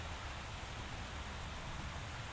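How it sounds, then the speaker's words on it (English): Steady rain hissing in a video game setting of Xenoblade Chronicles X, a continuous even wash of broadband noise with no distinct drops, fairly quiet and alone. "The rain's starting to let up, just in time for sunrise."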